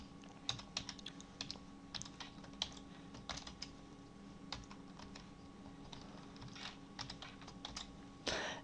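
Steady typing on a computer keyboard, a continuous run of quick, close key clicks with uneven rhythm and a slightly louder burst of keystrokes at the end, with no voices.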